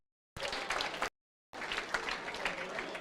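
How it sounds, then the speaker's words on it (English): Applause from an audience at an investor education conference, dense clapping in two bursts separated by a brief silent gap, with a murmur of voices mixed in. "Let's give them a round of applause."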